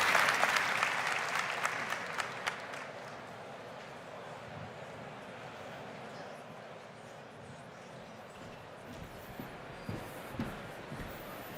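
An audience at a startup conference's founder stage gives chess player Marcus a big round of applause. The crowd's clapping is strongest at first, then thins to a faint murmur with scattered claps.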